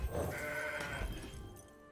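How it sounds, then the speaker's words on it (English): Mountain goats in the Legends of Runeterra card game let out a short, loud bleat lasting about a second, with a bright wavering tone that fades quickly. "We're good at drawing our mountain goats."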